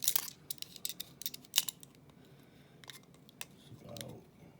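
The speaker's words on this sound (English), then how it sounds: "Let's get a caliper on that." A caliper is handled against the blade of a Condor Revenge knife, giving close, sharp metallic clicks and ticks in quick irregular clusters, then a soft brief scrape near the end.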